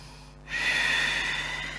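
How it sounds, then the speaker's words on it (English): One long, deep breath drawn in through the nose during a yoga class, a steady airy rush that swells and holds for over a second, close and alone. "2 or 3 deep breaths"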